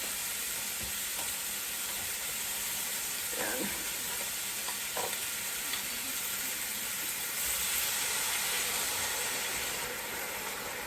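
Beef broth pours into a hot pot holding a chuck roast, setting off a steady, dense sizzle and hiss that continues evenly throughout, with a brief word spoken.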